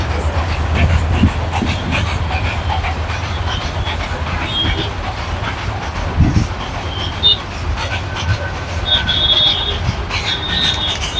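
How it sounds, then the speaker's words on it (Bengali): A train rolls past nearby, a loud continuous rumble of wagons with rattling wheels and occasional squeals, heard on a roadside in Kuril. "ট্রেন যাচ্ছে দেখতেই পাচ্ছ ট্রেন দেখছি এখন ট্রেন গেল"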